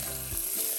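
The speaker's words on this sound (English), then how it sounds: "You can hear those peanuts begin to pop in there." Peanuts toasting in hot oil with green onions in a pan, a brief steady sizzle with faint crackles, close and moderately quiet, no talking.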